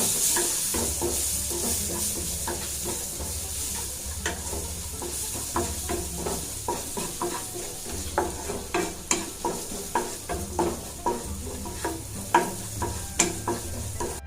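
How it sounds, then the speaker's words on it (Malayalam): Fennel powder, spices and sliced tomato being stirred in a sizzling curry pan for green pea curry, a continuous fry with repeated sharp spoon scrapes and knocks against the pan, close and without speech. "നമുക്ക് നല്ലപോലെ ഒന്ന് ഇളക്കി കൊടുക്കാം"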